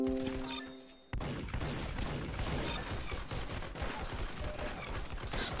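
Rapid gunfire in the shooter game Arsenal: a dense burst of shots cracks loudly after a short lull and keeps rattling close up without a break.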